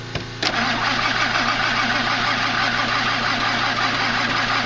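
A Ford Powerstroke diesel truck engine cranks briefly, then catches and settles into a steady, loud, close idle with a continuous rough rumble.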